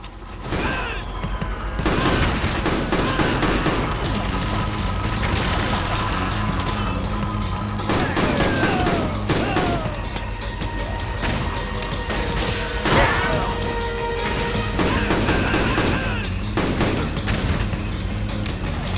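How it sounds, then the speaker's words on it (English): Heavy machine gun fire in the Metal Gear game, battling the Patriot Behemoth, rattles in dense, sustained bursts mixed with crashes, booms and impacts over a steady layer of game music and tones. "Use the machine gun"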